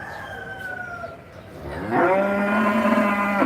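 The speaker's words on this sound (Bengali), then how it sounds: "আমাদের খামারে একটা নতুন গাভী গরু আসছে" A big new Friesian dairy cow on a farm gives a long, loud, close moo that rises and holds, following a quieter lowing call, with no people talking.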